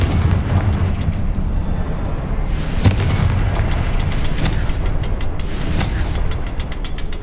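Booming Confringo spell blasts in Hogwarts Legacy, deep rumbling explosions with several sharper bursts over a continuous loud roar of battle noise.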